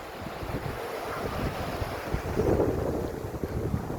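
Ocean waves wash against the shore, making a continuous rushing roar with a swell midway, heavily mixed with blustery wind buffeting the microphone, and no voices present.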